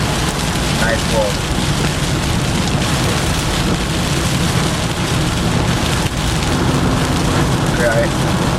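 Heavy rain pouring steadily during a Florida thunderstorm, a dense loud hiss of drops on surfaces throughout, with faint voices in the background.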